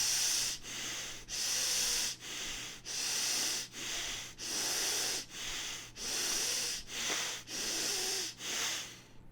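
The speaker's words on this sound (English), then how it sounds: "now start with the belly breathing" Slow, deep belly breathing during a meditation practice: about nine long, airy breaths close to the microphone, each a sustained hiss separated by short pauses, with a low hum underneath.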